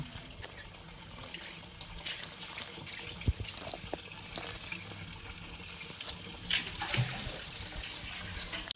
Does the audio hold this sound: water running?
yes